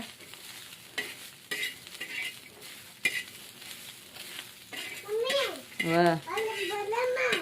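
Chopped onion and tomato fry in a home pan with a steady sizzle and occasional spoon clinks, the crackle growing denser toward the end as a voice with rising and falling pitch speaks over it.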